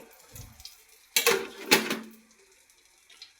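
A lid clatters down onto a pot of chicken pulao topped with ghee, two sharp metallic clanks close together with a brief ringing tail, and quiet kitchen handling before and after.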